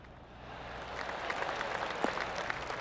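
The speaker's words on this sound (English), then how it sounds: "I can hear the golf claps around the course." Soft, scattered golf clapping from a distant crowd around a course in the video game PGA TOUR 2K25, a steady polite patter of applause swelling slightly over a few seconds.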